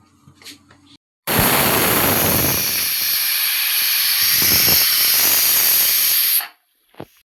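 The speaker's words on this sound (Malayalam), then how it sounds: "ഒരു 3-4 വിസിൽ വരെ അവനവിടെ ഇരിക്കട്ടെ" A pressure cooker on a gas stove, cooking liver curry, releases a loud, steady hiss of steam for about five seconds. The hiss starts abruptly and cuts off sharply, with no voices over it.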